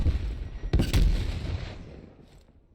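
A sharp sniper rifle shot cracks out in Call of Duty Black Ops Cold War, one loud close report with a second quick blast, then a rumbling echo fading away.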